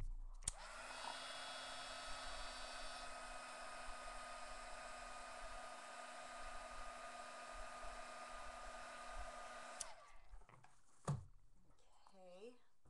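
A heat tool blows in a steady whir for about nine seconds while setting embossing powder on a craft project, then clicks off, leaving brief handling noises and faint sounds after it.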